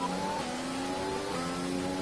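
An F1 race car engine in F1 2020 screams at high revs on a Monaco lap, its pitch climbing and dropping as it shifts through the gears, loud and continuous.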